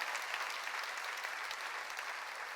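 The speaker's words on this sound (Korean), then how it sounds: "박수." A church congregation claps steadily at a summer mountain revival service, a dense, even wash of applause filling the whole stretch with no voices on top.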